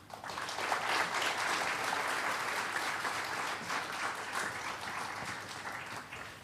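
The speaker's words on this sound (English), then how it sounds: "I would like you to give a huge applause for our MAHE colleagues and the dignitaries" An audience at a global health symposium inauguration claps for colleagues and dignitaries, dense sustained applause heard from a distance in a large hall, fairly quiet and even, tapering slightly toward the end.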